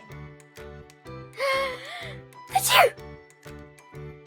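Sung sneeze imitation in a children's Urdu alphabet rhyme: a voice does a breathy, sharp achoo burst over a looping, rhythmic musical backing with singing.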